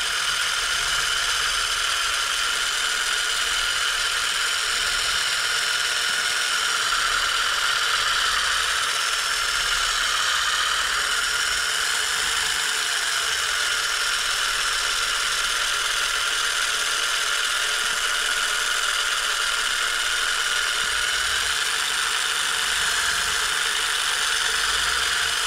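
Power drill boring into a 1948 Chrysler door handle, a steady high-pitched whine with a rattling mechanical undertone held continuously for the full length, close and fairly loud.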